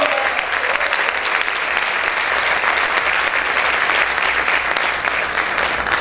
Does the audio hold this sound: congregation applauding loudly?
yes